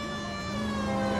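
A police siren from L.A. Noire wails steadily and loudly on its own, a sustained tonal howl that fills the short moment without any talk over it.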